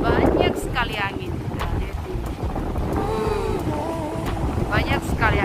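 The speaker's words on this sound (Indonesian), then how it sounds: "di sini guys banyak sekali angin." Strong wind buffets the microphone at a Hong Kong waterfront, a continuous roar and rumble with someone talking over it.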